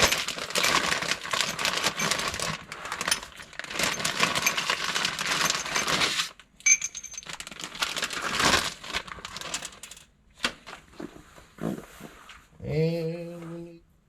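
Metal bolts in a bag are handled for fitting a Jeep Wrangler double cardan driveshaft, giving crinkling and clinking bursts in the first half, then scattered light clicks and a brief voiced sound near the end.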